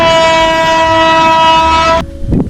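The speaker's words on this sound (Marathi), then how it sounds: "आता रेल्वे आली आडवी पडलं बर का गेट" A loud, sustained train horn blares close by at a railway crossing, then cuts off abruptly, followed by a brief rumble of the passing train.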